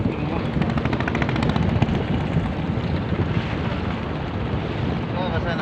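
A boat engine drones steadily and loudly on the Buriganga river in Dhaka, a rough rattling chug with wind buffeting, continuous throughout.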